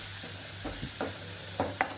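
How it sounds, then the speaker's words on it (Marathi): Green ground spice paste fries in hot oil for a home-style mixed dal, with a steady low sizzle under a few soft stirring scrapes and a brighter clink near the end. "हिरवं वाटण केलेलं आहे ते आपल्याला या तेलामध्ये घालायचे आहे आणि छानपैकी खरपूस आपण हे तेलात फ्राय करून घेणार आहोत"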